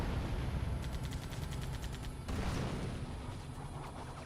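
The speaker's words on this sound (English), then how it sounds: "Look at all those rockets." Rockets firing in the Halo 2 video game: a rapid burst of repeated sharp launch bursts over a dense rumbling roar, followed by a heavier blast and lingering rumble, no voices.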